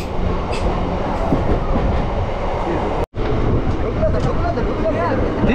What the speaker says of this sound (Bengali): আমাদের ট্রেন কিন্তু ঢুকে গেল